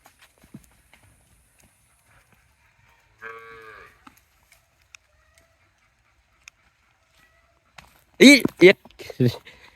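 Cattle on a livestock farm in Naogaon let out a single short moo partway through an otherwise quiet stretch, followed near the end by people talking close by.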